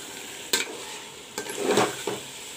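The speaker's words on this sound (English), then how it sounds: "Now I will fry the masalas." Masalas fry with mutton in a pan for a bhuna jeera mutton curry, with a steady close sizzle broken by several scraping spatula strokes.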